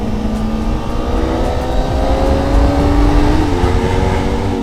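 A loud Kawasaki ZX25R motorcycle engine drones steadily, its pitch rising and falling as it revs, heard close with no talking.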